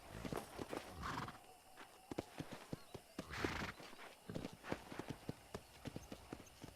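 Horse hooves clip-clop in a steady rhythm in the video game Red Dead, with a couple of whinnies breaking in, close and clear over a quiet background.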